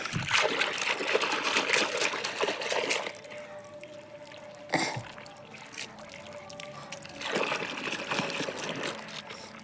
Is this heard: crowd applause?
no